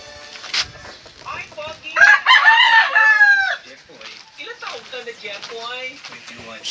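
Gamefowl on a game farm, roosters crowing loudly and close with hens clucking around them, while someone talks over the birds.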